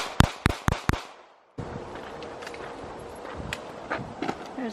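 Five sharp shots from a Walther PDP F-Series pistol fired in steady rhythm at 5 yards on a range, loud and close, followed by quieter range noise and shuffling.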